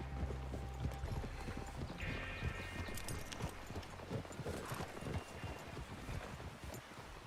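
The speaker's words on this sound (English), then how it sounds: "Arthur's horse." Horse hooves clip-clop in a steady walking rhythm in Red Dead Redemption 2, with a faint whinny and soft wind noise over a low rumble.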